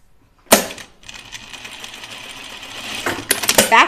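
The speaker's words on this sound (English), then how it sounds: "Backstitching these is not going well, so I'm going to stop backstitching them." Sewing machine stitching lightweight dress fabric with backstitching, a steady whirring run after a sharp start, then a few quick bursts near the end, close and alone with no talk.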